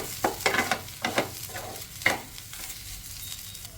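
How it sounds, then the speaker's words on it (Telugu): Green beans frying with dried red chili and coriander powder, stirred in a pan with a run of scraping strokes over a soft sizzle that settles into a quieter hiss. "ఒకసారి కలిపేసుకుందాము"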